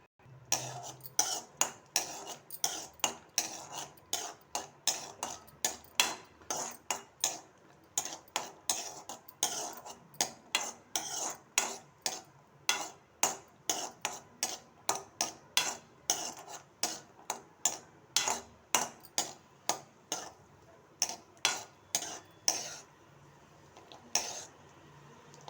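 A ladle clinks and scrapes steadily against a kadai as cashews and raisins fry in ghee. The sharp metallic taps come in a quick, even rhythm for the whole stretch, fairly soft and close, with no talking.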